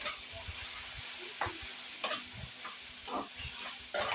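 Ground turmeric, cumin, coriander and chili powder frying together in a pan, a quiet close sizzle broken by irregular stirring scrapes and clinks of the spoon.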